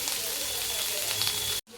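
Capsicum frying in oil with red chilli powder and turmeric gives a steady, close sizzling hiss that holds level before cutting off abruptly just before the end.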